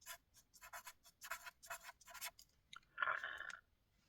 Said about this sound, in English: so these write really well